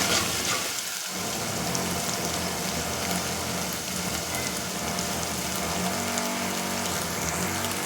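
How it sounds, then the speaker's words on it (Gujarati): Ingredients for a Kathiyawadi-style gram-flour kadhi fry in oil over a low flame, giving a dense, even crackle that holds steady and close throughout. "એકદમ તેલમાં એને ફ્રાય થવા દેવાનું છે"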